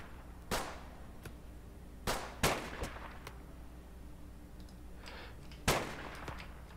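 Rifle fire in the colony-building game RimWorld: five or six sharp, separate shots spaced irregularly over several seconds, fairly faint against a low steady background, with no talking.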